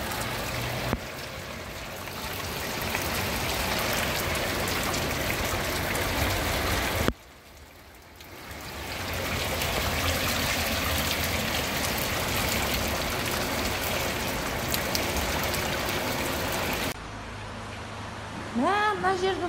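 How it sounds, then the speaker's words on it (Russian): Water drips and trickles steadily from the ceiling of a flooded flat, a close, continuous patter that breaks off briefly midway, with faint indistinct voices in the room. "Сверху, короче, начинает капать."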